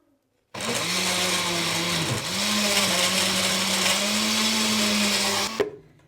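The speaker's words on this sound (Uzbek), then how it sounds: "Endi blender qilamiz." Blender whirring through a detox drink, a loud, close motor drone that starts abruptly, dips briefly in pitch once midway, then runs steadily before cutting off and winding down.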